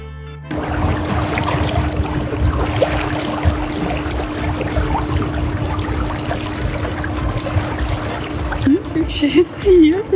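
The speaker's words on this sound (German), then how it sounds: "Ist jetzt den Motor angemacht." An outboard motor on a small leisure boat runs steadily with a constant drone, close by and continuous beneath water splashing, with a dog aboard.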